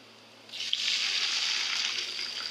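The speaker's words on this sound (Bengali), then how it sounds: "এখন একটু পানি দিয়ে দিব।" Water hits fried onions in a hot wok, bursting into a sudden loud hiss of steam after a quiet moment, then holding as a sustained sizzle.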